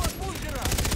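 Rapid gunshots crack in a quick burst of repeated sharp reports, loud and close, over a dense noisy background with a voice present.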